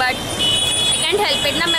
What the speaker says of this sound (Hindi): इसलिए आपको इतनी सारी पीछे से गाड़ी की आवाज़ आ रही है